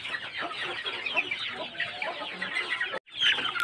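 A flock of young free-range village chickens clucking while they eat feed: soft, busy overlapping clucks and chirps close by, a brief cut near the end, then the clucking resumes.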